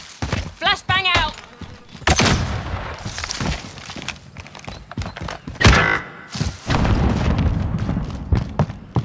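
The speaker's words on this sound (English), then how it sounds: "Flashbang out." A flashbang grenade bursts in Call of Duty: Modern Warfare with sharp booming thuds and ringing, mixed among gunfire, footsteps and other loud game effects.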